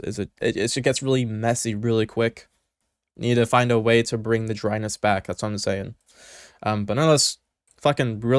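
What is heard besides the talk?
No everyday noise stands out behind the speech.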